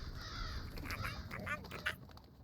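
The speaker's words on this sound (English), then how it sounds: "Little birds." Chirping bird calls from the video game The Last Door Season 2, several short bright chirps scattered over a steady ambient game background.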